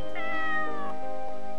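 A cat in the video game Corpse Party: Book of Shadows lets out a single drawn-out meow, close and clear, its pitch sliding down, followed by a brief softer trailing note.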